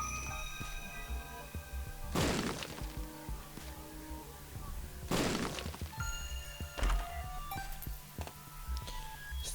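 Bombs exploding in The Binding of Isaac: Repentance, two loud close blasts a few seconds apart, followed by a smaller thump, over game music and effects.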